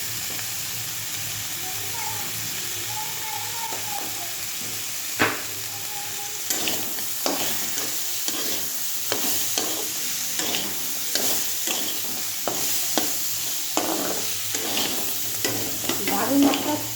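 Crab stir-frying in a pan with green chillies and salt, a steady loud sizzle under repeated scraping strokes of the spatula that grow busier toward the end, close up and without speech.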